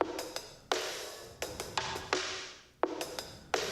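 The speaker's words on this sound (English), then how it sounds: "I've actually gone and made my own break in addictive drums" A custom drum break programmed in Addictive Drums plays as crisp, punchy hits in a loose hip hop groove, several sharp strikes spaced unevenly with short decaying tails, heard alone.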